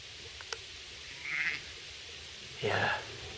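Sheep bleating outdoors, two short wavering calls a little over a second apart, the second louder and closer, over a quiet background.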